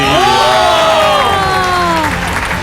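A studio audience at a Hakka TV Lunar New Year gala breaks into loud applause mixed with rising and falling cheers and excited shouting voices, close and continuous throughout.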